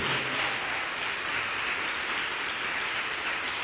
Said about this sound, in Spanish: Y batimos nuestras palmas porque lo dice el Salmo 47.